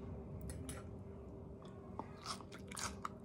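Someone bites into a sandwich topped with crunchy pickled red onion, giving a few quiet close-up crunches and chewing sounds toward the end over a low background hum.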